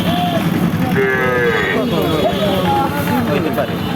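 Cattle moo at a crowded livestock market in Barishal, drawn-out lowing calls rising and falling nearby over a steady din of voices and people talking.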